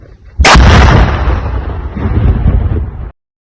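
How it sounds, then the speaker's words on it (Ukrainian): A single powerful blast from a controlled detonation of an unexploded drone fragment booms out, followed by a long rumbling roar that slowly fades before cutting off abruptly. "Вибухотнебезпечні предмети фахівці знищили методом контрольованого підриву на місці"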